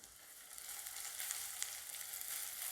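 Tomato and tamarind sauté in a pan for stuffed baingan masala, making a soft, steady, even sizzle with a few faint crackles.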